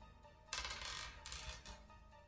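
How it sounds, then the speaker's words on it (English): A purple ten-sided die drops onto a table and rattles to a stop, a quiet, close clatter of a few quick bounces after a near-silent start. "You want to hear the sound of a D10, of a dice of 10 faces on my"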